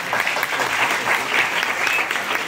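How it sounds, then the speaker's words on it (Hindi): Applause rises from an audience at a Bhagavad Geeta Jayanti gathering for a man on stage, a steady, even roar of many hands clapping at moderate loudness with no pauses. "उनके लिए जोरदार तालियां होनी चाहिए"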